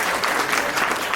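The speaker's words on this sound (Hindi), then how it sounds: "एक बार जोरदार ताली से" Loud, steady applause from an audience at a Jain temple ceremony in Shakti Nagar, Delhi, a dense wash of clapping filling the short moment without pause.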